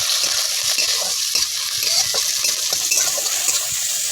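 Garlic and curry leaves fry in a pan with a steady, loud sizzle throughout, broken by soft scraping and stirring sounds as they are moved around.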